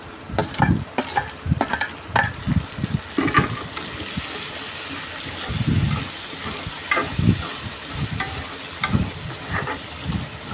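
Tomatoes frying and being stirred in a pan for a colocasia tamarind stew, with bursts of sizzling and scraping spoon strokes in an uneven rhythm, close by and without speech.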